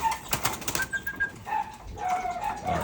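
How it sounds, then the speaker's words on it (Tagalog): Pigeons scuffle in a free-flight training setting, with bursts of wing flapping and rustling in the first second, then intermittent softer flutters and soft coos, close by and fairly loud, no talking. "Barbie naglalaban mga kalapatids."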